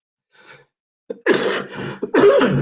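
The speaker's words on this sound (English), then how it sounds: "Sorry, I got a bit of a cough." A brief breath, then two harsh, forceful coughs in quick succession, close and loud against an otherwise quiet background.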